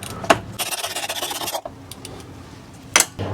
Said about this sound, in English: We're also going to take off this little 10mm bolt so that we can detach this line here from the air intake tube.